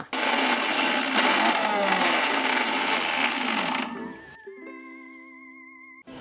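A mixer grinder grinds chillies with a loud, steady whirring roar for about four seconds, then cuts off abruptly, leaving a quieter tonal hum.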